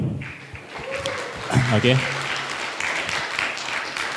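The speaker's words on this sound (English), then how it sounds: "please give an applause to our speaker." Brief applause from a conference audience for the speaker, a light patter of clapping with someone speaking briefly over it partway through.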